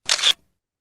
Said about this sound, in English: Here we have some shutter sounds, some Polaroid sounds, and a classic shutter.